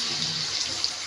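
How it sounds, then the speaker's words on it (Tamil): Water pours in a steady, hissing stream into a pot of Odia-style egg curry, close and continuous for about a second with no voices. "இப்போ வந்து கொஞ்சமாக தண்ணி சேர்த்துக்கிறேங்க."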